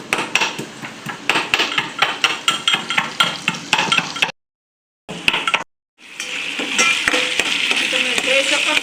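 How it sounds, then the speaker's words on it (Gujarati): A spatula clatters against a pan while tomato curry for sev tameta nu shaak crackles and sizzles, rhythmic scraping taps giving way, after two brief silences, to a steady frying hiss. "ચાલો આપણું બાને હવે 2-5 મિનિટ કકડવા દઈએ."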